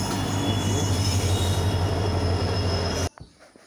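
A train rolls into a station with a steady heavy rumble, low drone and wheel squeal, close and loud, then the noise cuts off abruptly near the end.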